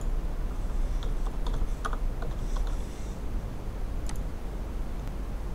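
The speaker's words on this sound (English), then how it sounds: "in the search bar type file path to get to the first node" Typing on a computer keyboard comes through as a short run of soft, quick key clicks over a steady background hiss, faint and close, followed by a couple of isolated taps.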